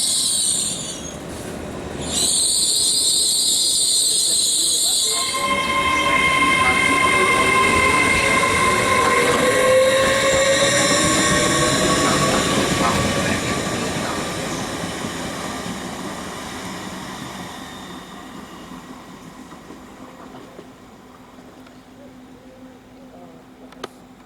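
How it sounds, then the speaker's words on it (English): A late-running train to Liverpool Lime Street rolls into a station with a rumbling roar, long squealing wheels and brakes, then slows and fades as it comes to a stop. "Here comes the very late running 6:52 to Liverpool Lime Street"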